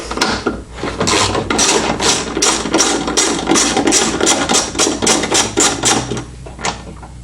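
Rapid ratchet clicking from a wrench loosening 8mm bolts on the tail light of a 2003-2008 Honda Element, reached with the lift gate open; a steady run of loud, close metallic clicks in quick bursts, with no talking.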